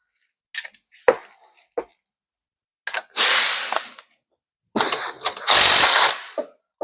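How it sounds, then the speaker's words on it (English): Bolts on a power steering pump of a Ford Transit EcoBlue are loosened with a tool, giving loud, close, separate bursts of ratcheting and metallic mechanical clatter with silent gaps between them. "So we'll nip the bolts out, loosen it, and pull it over so that we can get this off."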